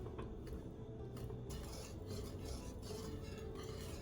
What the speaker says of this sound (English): We're going to whisk until the brown sugar dissolves